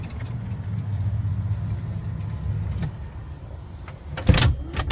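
A low motor whir hums steadily from a 2008 Town and Country minivan's power sliding door as the lock actuator cycles, ending in a short sharp clunk near the end.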